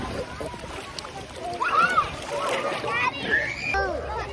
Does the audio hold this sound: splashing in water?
yes